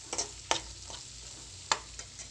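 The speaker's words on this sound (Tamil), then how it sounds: "உப்பு சேர்த்துட்டு நல்லா ஒரு தடவை மிக்ஸ் பண்ணி விட்டுக்கோங்க" Onions with salt sautéing in a pan for egg curry, a quiet steady sizzle with a few sharp spoon scrapes spaced irregularly.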